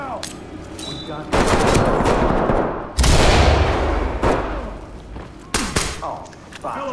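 Dense bursts of automatic and single gunfire in a tactical SWAT police video game, loud and close, coming in waves with short gaps between them.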